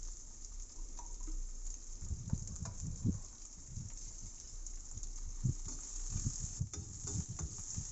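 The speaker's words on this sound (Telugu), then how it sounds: "వేయించుకోవాలి గోల్డెన్ బ్రౌన్ వచ్చే వరకు వేయించుకోవాలి" Sliced onions frying in a pan for mutton curry with drumsticks and cashews, a steady low sizzle broken by soft scraping stirs every second or so, close and alone without voices.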